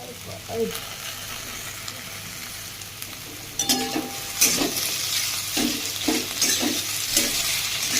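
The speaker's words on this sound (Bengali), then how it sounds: "খালি একটু তেলগুলো তার সাথে একটু নাড়িয়ে নিলাম মাখিয়ে নেওয়ার জন্য।" Onion, carrot and potato stirred in a little oil for Maggi noodles: quiet rustling at first, then louder scraping strokes and a light sizzle as the vegetables are turned over in the pan.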